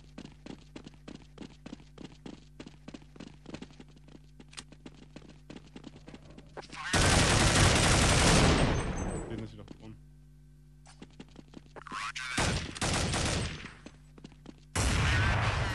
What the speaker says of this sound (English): First frag by William here against Salty, and this is a fast round again